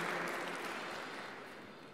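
Faint, dense clapping from a concert audience before a performance of Mozart's Requiem in Saint Petersburg, steady at first and gradually tapering off over a couple of seconds.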